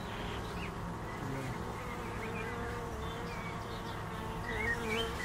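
Honeybees at an open hive during a beekeeping course, a dense, continuous swarm of buzzing with individual bees droning close by, steady throughout with no voices.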